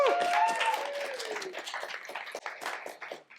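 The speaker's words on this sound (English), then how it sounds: "So Mad Mule applause again." Applause from a poetry slam audience at a public library, with cheering and bright tonal whoops riding over steady clapping at the start, then settling into a softer, scattered patter of hands that tapers off.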